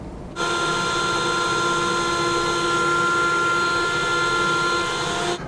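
A wood router with a top-bearing pattern bit trims around the edge of a layered table apron workpiece, kicking in abruptly and holding a loud, steady, high-pitched whine until it stops.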